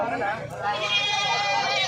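Goats bleat at a rural market in the Philippines, the wavering cries rising over a busy background of chatter and bargaining voices nearby.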